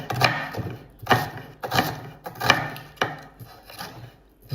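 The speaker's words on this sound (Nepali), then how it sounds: "प्याज टक्क काटौँ।" A knife chops onion on a board with a handful of distinct, evenly spaced thuds close by, each one a sharp knock with a little rattle.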